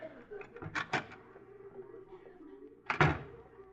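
A door on a live comedy stage show is handled with a couple of close wooden knocks or clunks early on and a louder thump near the end, with a faint murmur between.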